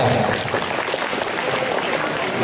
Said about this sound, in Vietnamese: Xin tất cả cho một tràng vỗ tay với các em.